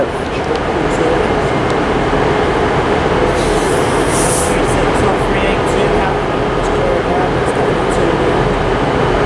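A Northern train pulls out of Liverpool Lime Street station toward the tunnels. It makes a loud, continuous rumble of wheels and rails, with a brief high wheel squeal partway through.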